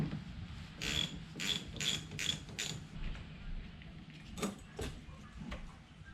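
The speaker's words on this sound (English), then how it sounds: "We're going to use a 10mm and our 3/8 socket." A ratchet turns a 10mm socket on a 3/8 drive while removing parts on a 3rd-generation Toyota Tacoma, giving a few quiet rapid clicking pulls followed by softer scattered clicks, close but faint.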